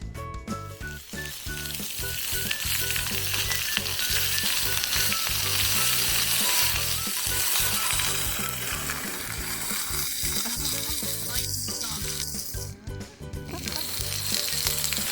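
About 300 g of meat sizzles on a grill at a lakeside campsite on Awaji Island, a loud, continuous, close crackling hiss with faint scraping, steady throughout.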